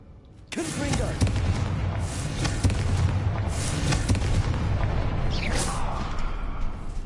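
Confringo explosive spell blasts in Hogwarts Legacy set off a sudden, sustained rumbling barrage of booms and crackling bursts, loud and continuous after a quiet start.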